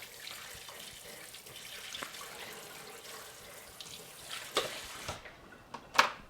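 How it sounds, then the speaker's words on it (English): Running tap water in a kitchen sink while dishes are rinsed after cooking, a soft steady hiss of flowing water with a few louder splashes and clinks near the end. "I'm going to rinse this because if not, everything's going to dry on there"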